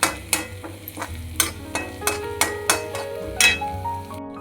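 Onions and spices fry in hot oil while a spoon stirs them in a pan, giving a steady sizzle under a run of regular metallic clinks and scrapes, close and fairly loud.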